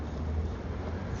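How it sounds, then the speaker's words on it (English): Steady low wind rumble buffeting the microphone while riding a gravel bike along city bike lanes in New York, a constant close blustery roar with no talk. "It's a little windy out too."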